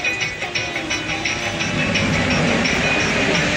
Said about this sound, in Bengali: এই যে ট্রেন আসছে।